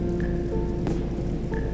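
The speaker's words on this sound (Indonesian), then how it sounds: "Hujannya terus banget." Steady rain patters on a tent at a rainy motorcycle campsite, a dense continuous hiss with a few louder drips landing close by, and no voices.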